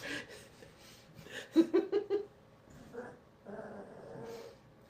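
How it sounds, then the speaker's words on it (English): A dog growls and grumbles in a short run of throaty pulses near the middle, fairly close, followed by quieter rumbling with room noise around it. "The dog is growling"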